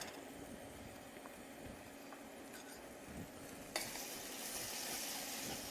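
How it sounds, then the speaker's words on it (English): Garlic added to a hot pan while cooking a salmon dish, a quiet background sizzle with light utensil clinks that suddenly swells into a louder, brighter hiss of frying partway through. "So adding in the garlic"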